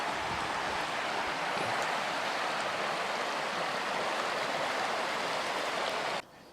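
A river runs high with mountain snowmelt runoff, already flooding its banks, giving a loud, steady rushing roar that continues unbroken for several seconds before cutting off abruptly.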